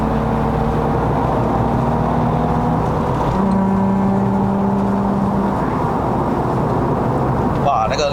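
A Japan-spec Nissan 350Z with a 3.5-litre VQ35DE V6 and six-speed manual, driven on the road in Malaysia, giving a continuous engine and exhaust drone with a brief rising tone midway.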